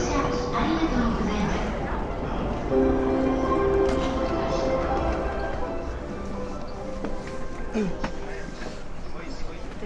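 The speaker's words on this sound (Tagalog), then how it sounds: "Mabilis tong tren na to." A Tokyo train rumbles along with rhythmic clatter and squeal, heard from inside among voices talking, some distant tonal hums passing through.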